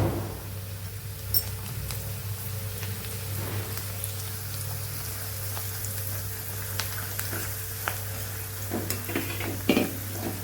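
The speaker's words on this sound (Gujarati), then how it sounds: "લસણવાળી ચટણી ખાંડી તૈયાર કરેલી આપણે પહેલાં સાતડી લેશું" A spoonful of pounded garlic chutney sautéing in a pan for a winter mixed-vegetable masala khichdi, a steady soft sizzle with occasional stirring scrapes, close and continuous with no talk.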